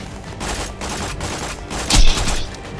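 Rapid gunfire in Borderlands 2 during a boss battle in Tiny Tina's Assault on Dragon Keep, a loud continuous burst of shots with one sharper, heavier blast near the end.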